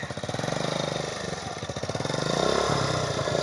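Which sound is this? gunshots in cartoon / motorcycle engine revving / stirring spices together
motorcycle engine revving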